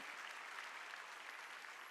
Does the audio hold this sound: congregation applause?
yes